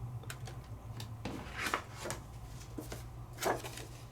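Blue paper cut with scissors at a scrapbooking stamp table, a few quiet snips and rustles spread over a low steady hum, close and faint with no talk.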